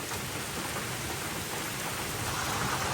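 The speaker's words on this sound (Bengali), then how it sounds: "এখন হালকা কিন্তু কমছে বৃষ্টিটা" Rain falling over village rice fields during the planting season, a dense, steady broadband hiss of downpour that stays even and fairly loud throughout with no voices.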